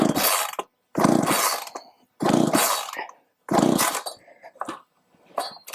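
A vintage Poulan 3400 chainsaw revving at fast idle in four loud bursts, each roughly a second long, separated by short pauses, with a fainter blip near the end.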